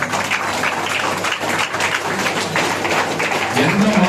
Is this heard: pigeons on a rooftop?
no